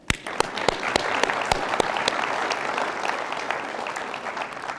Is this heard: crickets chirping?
no